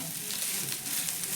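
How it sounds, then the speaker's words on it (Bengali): Onion, coconut and dried red chilies stir-fry in a pan, giving a soft, continuous hiss of frying oil heard up close and fairly quiet. "দিয়ে একটু সব কিছু ভালো করে নাড়াচাড়া করে ভেজে নেব।"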